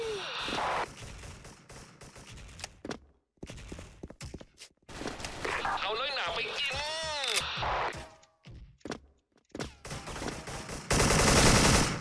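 Rapid bursts of AK-74 automatic fire in the online shooter Special Force, loud and close, broken by short pauses, footsteps and a voice talking between volleys.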